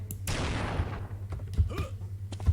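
A weapon fires in Unreal Tournament 2004, with one sharp, loud blast that trails off into a noisy decay, followed by a few fainter, quicker shots and thumps.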